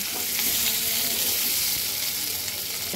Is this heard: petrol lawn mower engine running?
no